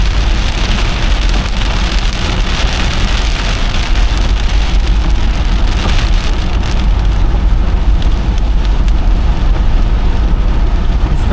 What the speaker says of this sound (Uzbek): Hozir tinadi yomg'ir menimcha.